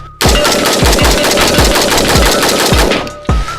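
Loud, rapid fire from a DB-15 rifle close by, a fast, evenly spaced string of sharp shots with a brief pause near the end.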